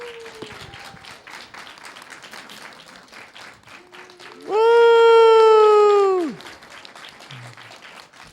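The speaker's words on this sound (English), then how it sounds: "Everybody, one round of applause for Meme." An audience applauds for a player at a Tetris world championship finals in Kansas City, with crowd noise under an announcer's talk, a shouted cheer, and a loud sustained mechanical tone that swells in the middle and cuts off.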